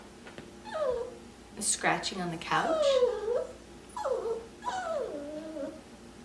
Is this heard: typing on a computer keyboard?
no